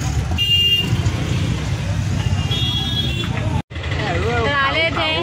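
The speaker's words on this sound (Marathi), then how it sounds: "इथे ट्रॅफिक पण लागते वाटतं" Street traffic rumbles past in Dombivli, a continuous low roar of cars and engines with distant horn toots, while people talk nearby over the noise.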